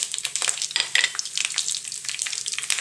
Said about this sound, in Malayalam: എണ്ണ നന്നായി ചൂടായതിന് ശേഷം നമുക്ക് 1 സ്പൂൺ കടുക് ഇട്ട് കൊടുക്കണേ